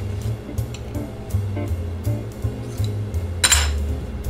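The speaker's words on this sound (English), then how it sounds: "So we're starting to get a ball because it's harder to stir now." Stiff Nutella cookie dough worked with a utensil in a bowl, giving close, repeated scraping knocks and clinks against the bowl's sides in an uneven rhythm, with no voices.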